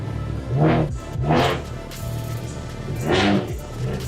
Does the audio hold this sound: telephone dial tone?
no